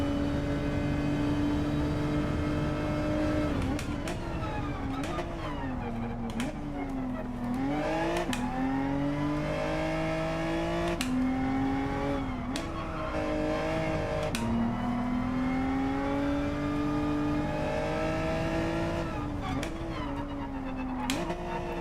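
A race car engine in Gran Turismo 7 on the Nürburgring revs hard and steadily, pitch climbing and dropping through repeated gear shifts and over-revving, loud and continuous with no talk.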